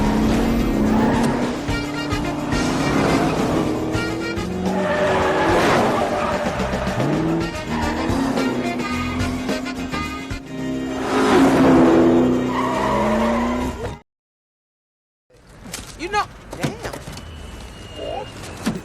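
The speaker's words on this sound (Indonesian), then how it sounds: "dia mengemudikan taksinya dengan ugal-ugalan dan sampai di bandara kurang dari 10" A taxi driven recklessly in racing mode roars along with squealing, skidding tires under loud dramatic music and some voices, before a sudden silence and a quieter stretch at the end.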